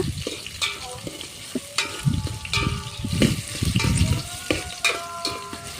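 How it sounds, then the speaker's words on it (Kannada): Chopped onions sizzle in hot oil with curry leaves while a spoon stirs and scrapes the pan. The frying hiss is steady and close, with irregular stirring scrapes and clatter throughout. "ಈರುಳ್ಳಿ ಹಾಕಿ ಮಿಕ್ಸ್ ಮಾಡಿ ಸ್ವಲ್ಪ ಕೆಂಪಾದ ನಂತರ"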